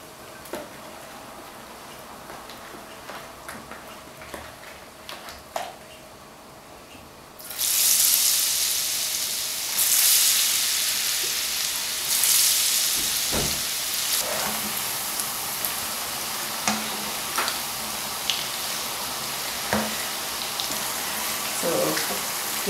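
Battered okra frying in very hot oil in a home kitchen, a steady loud sizzle that starts suddenly as the batch goes in and continues with scattered pops and crackles.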